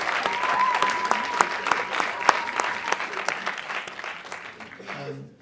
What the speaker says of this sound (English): I'd like to lead a round of applause just for all the adult volunteers.